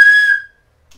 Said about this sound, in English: We're blowing our whistles.